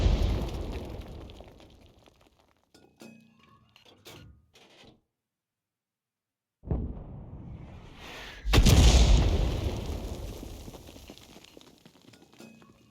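Artillery fire booms in a World of Tanks-style battle involving a 105 leFH18B2 self-propelled gun, loud blasts and shell explosions with rumbling decays, some sharp rattling impacts, a silent stretch, then a powerful close explosion trailing off.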